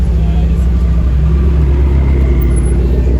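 A McLaren 650S Spider supercar speeds out of a toll exit, a loud deep engine rumble close by that holds steady throughout.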